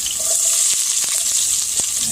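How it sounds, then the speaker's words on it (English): Oil sizzling in a heated pan for Spanish rice, a loud bright hiss running throughout with a few sharp crackles and pops. "I got this pan heating up. I already put the oil in here."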